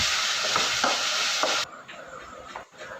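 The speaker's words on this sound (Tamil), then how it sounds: "அரைச்சி வச்ச மசாலாவை சேர்த்து நல்லா வதக்கி விடுங்க" Ground masala paste fries in oil with a loud steady sizzle as a spoon stirs it in a few scraping strokes; the sizzle drops to a softer level partway through, with no voices.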